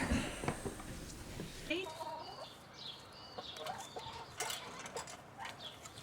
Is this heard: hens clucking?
yes